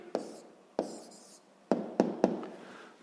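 A pen taps and scratches on paper while an answer to a sixth-grade maths exercise is written down, five sharp close strokes with short gaps between them.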